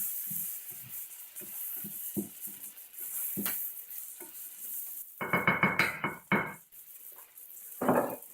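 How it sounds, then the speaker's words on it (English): A utensil stirs smoked sausages with minced garlic frying in a pan for a keto stir fry, making repeated close scraping strokes over a faint, steady sizzle that grows busier toward the end. "Stir that around a little bit. Get all these sausages loose."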